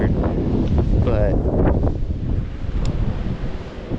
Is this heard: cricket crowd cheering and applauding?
no